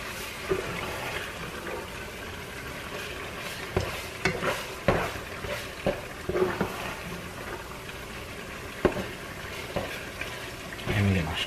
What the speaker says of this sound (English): Then sit and stir this up some more for y'all.